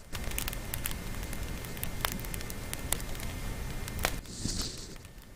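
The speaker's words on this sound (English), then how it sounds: "It's also critical at this step that you listen to the crackling noise if it's cooling." Freshly baked no-knead sourdough bread crust crackles and pops as it cools, heard up close as a dense bed of fine crackles with occasional sharper snaps.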